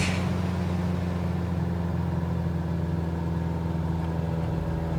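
A Bücker Bü 131 Jungmann biplane engine in Microsoft Flight Simulator, a steady droning hum with a constant low pitch that holds evenly throughout.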